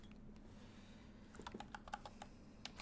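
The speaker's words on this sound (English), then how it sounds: "let me just type this out for y'all" Close, quiet typing on a computer keyboard, a short burst of rapid uneven key clicks building after a near-silent start over a faint low hum, with no talking.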